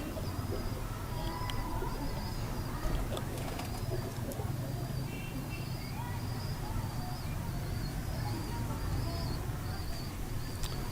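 A breeding pair of pigeons, a male perched above and a female nearby, coo softly in repeated low murmurs against a busy background hum with faint insect buzz.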